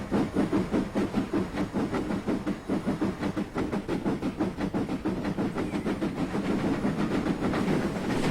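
A GWR Castle steam locomotive in Train Simulator 2015 chuffs in a fast, steady rhythm of loud exhaust beats over hissing steam, sustained and close with no talk.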